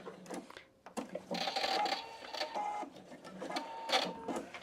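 A PFAFF Expression 720 sewing machine runs close by while stitching two fabrics together for a pouch, giving a few seconds of fast, continuous whirring needle clatter after a brief start.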